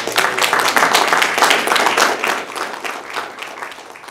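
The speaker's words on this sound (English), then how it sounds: "we ought to give the EPP team a round of applause" A modest group at a school district board workshop claps in response, the individual claps distinct and close, the applause swelling briefly and then thinning out over a few seconds.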